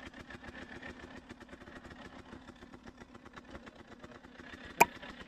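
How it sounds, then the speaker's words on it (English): A KTM 300cc two-stroke motorcycle engine runs steadily with a rapid, even pulsing, heard at moderate volume. One sharp click stands out near the end. "It's a KTM. I believe it's a 300cc two stroke."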